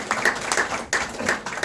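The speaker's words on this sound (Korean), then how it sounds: "한번 박수하겠습니다" A church congregation claps together at a thanksgiving worship service, producing a short run of rhythmic, evenly spaced bursts of clapping that are loud and close, with no talking.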